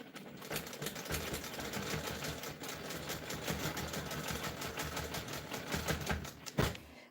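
A sewing machine runs steadily and close, stitching in the ditch through quilted fabric with a fast even needle rhythm for about seven seconds, ending with a brief louder clunk.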